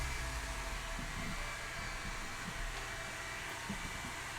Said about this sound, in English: Is Andrea using the hairdryer